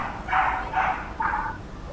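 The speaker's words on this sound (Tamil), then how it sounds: "அந்த நாய் குலைக்குது." A dog barks three times outside, each bark fairly close and spaced about half a second apart, standing out over faint background hum.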